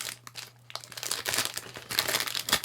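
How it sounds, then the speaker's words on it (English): A Japanese snack package being cut open, close crinkling and crackling of plastic wrapping with short snips and rustles, fairly loud with no talk. "Then I have to cut the top off of this as well."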